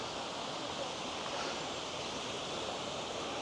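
Steady, dense rush of a waterfall in the Wolfsschlucht gorge in Upper Bavaria, continuous and fairly loud with no breaks, heard up close.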